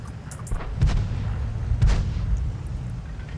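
Two deep booming tank cannon shots from a light tank in the World of Tanks game, about a second apart, over a steady engine rumble with no talk.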